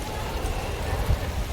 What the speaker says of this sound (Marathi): पहिलाच पाऊस या ठिकाणी आळंदीमध्ये